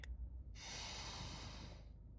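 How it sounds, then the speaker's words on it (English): A slow, deep breath drawn in close to the mic in a quiet parked car, a long airy hiss rising steadily for more than a second and then fading out. "we'll take a big deep breath in"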